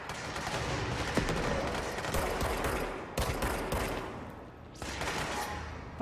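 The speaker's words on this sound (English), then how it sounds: "I'm hearing shooting." Dense gunfire from the action video game Control, with overlapping bursts and rapid automatic shots filling the whole stretch, loud and close with brief dips between volleys.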